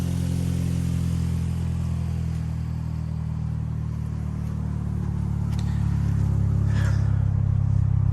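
A steady, low rumbling idle from an Acura TSX engine just fitted with new injectors, heard close and even throughout with no revving and no voices.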